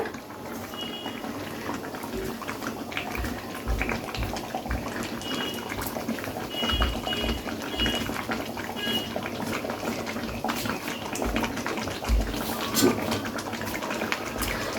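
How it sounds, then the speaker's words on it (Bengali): Yogurt mutton curry simmers in an open kadai after pressure cooking, a continuous close bubbling and gurgling boil with small pops and splutters throughout. "প্রেসার কুকার থেকে নামিয়ে আমি এবার কড়াইতে করে আবারও একটু 5 মিনিটের জন্য ফুটিয়ে নেব।"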